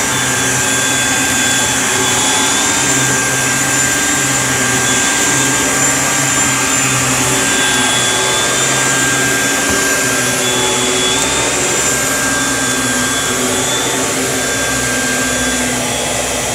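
Constant loud droning whine of a vacuum cleaner running throughout while vacuuming a floor, close and unbroken, with a steady high motor tone over a rushing airflow roar.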